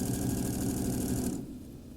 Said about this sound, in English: we're going to do 2 stitching lines on top of the waistband